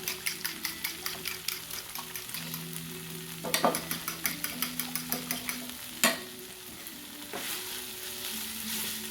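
Steady crackling sizzle of eggs frying in a pan, with faint stirring and a few sharper clinks and scrapes along the way.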